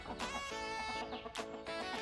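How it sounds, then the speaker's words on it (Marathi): Hens at a poultry farm cluck close by in short, overlapping bursts, with a few sharper calls standing out over a busy flock background. "हे बघा पोल्ट्री फार्म आणि बघा ह्या कोंबड्या पोल्ट्री फार्ममध्ये"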